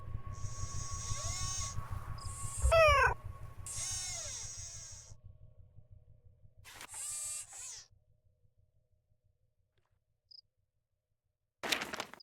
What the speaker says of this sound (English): Who's my favorite robotic cat?